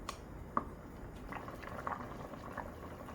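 Gochujang stew with zucchini and tuna simmering in a pot, a quiet, soft bubbling with a few small pops scattered through.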